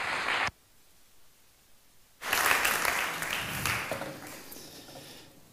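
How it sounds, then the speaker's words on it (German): Audience applause at a German church service welcoming a preacher, a short burst cut off, then a pause before a long, full round of clapping that rises and continues steadily. "lass uns mit einem Applaus ihn willkommen heißen"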